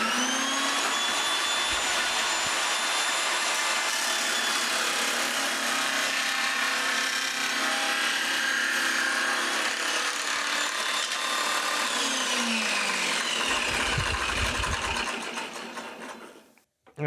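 Table saw ripping a slot into a wooden workpiece, a loud, steady high whine with grinding cut noise held for about sixteen seconds, then the blade spins down at the end; no talk over it.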